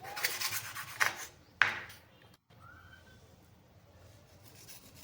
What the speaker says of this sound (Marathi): त्यानंतर त्याची शेपुटी कट करून घेऊया.